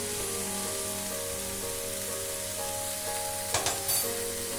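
Ginger garlic paste sautés in a pan, probably with onions, making a steady sizzle and crackle close up, with a few brief clanks of stirring near the end.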